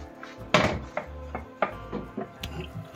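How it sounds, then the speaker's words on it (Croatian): A lid is lifted off a lasagna baking dish, giving a few close, sharp knocks and clatters of the cover against the dish, spaced irregularly with quieter rattles between them and no talking. "Sad ćemo mi ovo polako da izvadimo i da skinemo ovaj poklopac"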